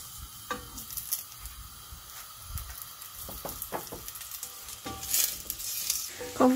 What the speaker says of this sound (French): Je vais ajouter les oignons, je vais les faire revenir jusqu'à ce qu'ils deviennent translucides